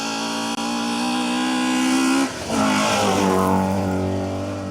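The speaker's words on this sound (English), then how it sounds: "This is a sight to behold if it is the Cosworth Mercedes." A Cosworth-engined Mercedes rally car accelerates hard on a 2WD stage of the Woodpecker Stages Rally. The engine is loud and close, with a rising howl, a brief dip at a gear change, then another strong climb.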